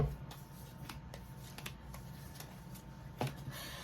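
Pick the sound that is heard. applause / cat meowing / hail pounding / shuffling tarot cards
shuffling tarot cards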